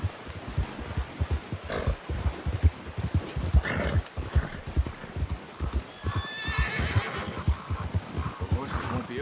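A horse neighs in the Red Dead Redemption 2 game after a hunt, a clear whinny amid steady clip-clop hoofbeats and game ambience, with a voice talking over parts of it.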